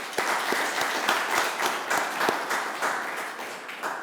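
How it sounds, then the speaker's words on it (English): An audience at an author event welcomes the guests with applause, a brisk, fairly close clapping, with sharp individual claps standing out over a steady wash, nobody speaking. "please welcome them with a big round of applause"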